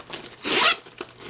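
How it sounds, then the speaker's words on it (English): A zipper on an Amazon diaper bag pocket is drawn open in one quick, close rasping pull, with a few small fabric rustles before it and a short click after. "You can unzip it"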